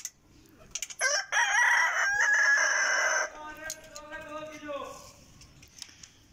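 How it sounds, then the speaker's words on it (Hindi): A rooster crows loudly nearby in one long call, followed by softer clucking and scattered bird noises, with a voice speaking briefly. "मुर्गियां वगैरह हैं इस केज के अंदर"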